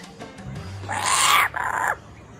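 A loud burst of raucous, cackling kookaburra calls rises for about a second, breaks briefly, then continues before cutting off, with quiet background below.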